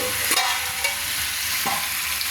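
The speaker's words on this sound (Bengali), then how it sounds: "চিকেনটা আমার কষানো হচ্ছে" Chicken pieces sizzle steadily in a hot pan while being sautéed for curry, with a few soft scraping stirs of a spoon against the pan; close, continuous frying with no talking.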